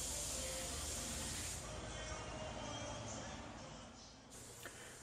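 Steady airy hiss of a paint spray gun running continuously on auto parts, loud and close, easing slightly before a short pause and resuming.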